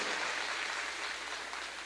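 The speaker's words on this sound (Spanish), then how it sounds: "Un aplauso fuerte a Jesús, al Espíritu Santo" A church congregation applauds loudly at a Catholic charismatic gathering, a faint, distant and evenly dense patter of many hands clapping with no distinct individual claps.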